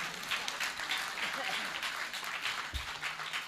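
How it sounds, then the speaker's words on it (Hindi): An audience at a Hindi-language talk gives a burst of steady clapping, moderately loud and continuous for a few seconds, with a faint voice underneath. "एक बार जोरदार मेरी काया के लिए ताली बजा दीजिएगा"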